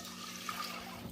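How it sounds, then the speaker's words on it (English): Water pours quietly into a pot of rinsed rice for jook, a faint, steady trickling rush lasting about a second. "We're going to add our water."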